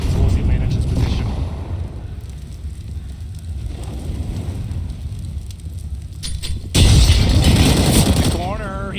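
A grenade goes off on the Train map during a CS:GO pro match, a sudden loud boom near the end following a stretch of rumbling game ambience and caster commentary.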